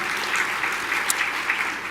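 Audience applause at an awards luncheon honoring women, a steady wash of clapping filling the room throughout, fairly even in level with no voices over it.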